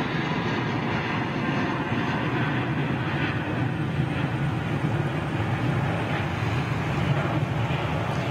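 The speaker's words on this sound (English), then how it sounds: "Asiana's 350 still in reverser." An Asiana Airbus A350 rolls out on landing at London Heathrow with thrust reversers engaged, giving a steady, distant broadband engine roar without talk.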